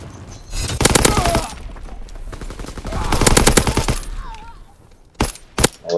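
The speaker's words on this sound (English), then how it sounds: "everybody got the SMG on now" Submachine gun fire in Call of Duty WW2: two long, loud automatic bursts around the first and fourth seconds, a quieter lull between, then a few sharp single shots near the end.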